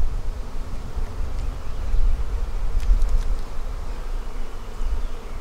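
Honeybees buzz around open beehives while two colonies are combined into one bee barn, a steady dense hum of many wings with a few louder passes of individual bees close by.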